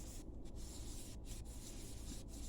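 Steady close-up rubbing and wiping of an alcohol-ink tumbler with brief pauses, a continuous dry scrubbing texture without any voices.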